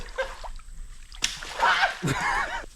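Water splashing in a shallow creek, two close bursts of sloshing splashes after a quieter start, with some faint background voice.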